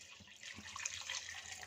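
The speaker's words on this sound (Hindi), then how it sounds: "पानी इसमें 4 कप शामिल करेंगे" Water poured from a cup into a pan of spiced potato curry (achari aloo bhujiya), a close, steady splashing and trickling pour lasting under two seconds with no voices.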